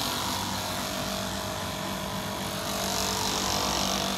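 A cheap hotel-room air conditioner in Pattaya runs with a loud, steady, broadband roar and a helicopter-like rumble, unbroken for the whole stretch with no voices over it.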